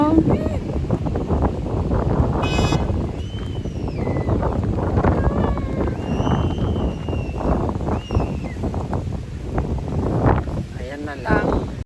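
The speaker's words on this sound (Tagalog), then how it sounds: "ang hangin" Strong wind in Guam buffets the microphone with loud, gusty rumbling, while people talk and exclaim over it.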